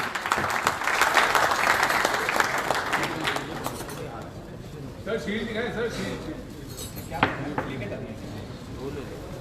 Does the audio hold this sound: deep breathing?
no